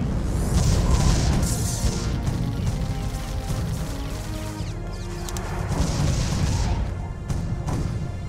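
A cannon fires in the tower-defense video game Defense Grid: The Awakening, giving deep, rumbling booms and crashing impacts that layer into a dense, continuous barrage under game sound.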